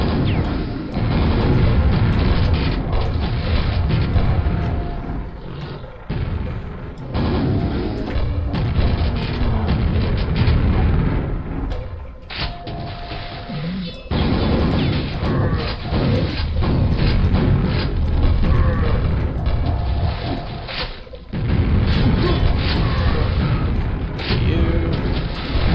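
Loud, dense booms and blasts of grenade explosions and weapon fire in the retro shooter game Quake, heavy rumbling bursts packed together with brief drops in between.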